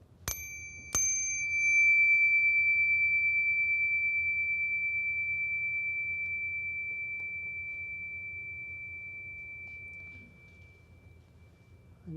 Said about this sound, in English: I'll just ring the bell again and again, just listening to the sound of the bell as it fades.